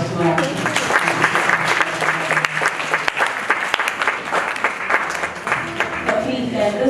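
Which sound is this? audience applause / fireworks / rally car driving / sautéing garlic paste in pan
audience applause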